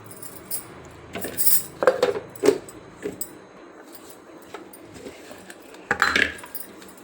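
Garlic cloves and tamarind are mixed together in a vessel for a flaxseed spice powder, giving scattered metallic clinks and scrapes in short bursts, with quiet gaps between them and no talking.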